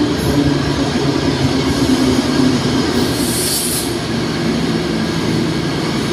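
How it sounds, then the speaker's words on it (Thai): Alstom locomotive 4107 hauling rapid train 107 into Don Mueang station at night, a loud, steady rolling rumble of wheels on rail with a brief high squeal partway through. "อัลสตอมหมายเลข4107นะฮะทำขบวนรถเร็ว107นะฮะจากสถานีกลางกรุงเทพอภิวัฒน์ไปสถานีเด่นชัยนะฮะในค่ำคืนวันนี้นะครับ"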